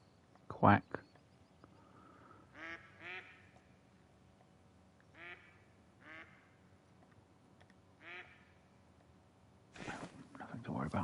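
Repeated short quacking calls from ducks in theHunter: Call of the Wild, coming in spaced groups over quiet outdoor ambience, bracketed by a sharp click at the start and a burst of louder noise at the end.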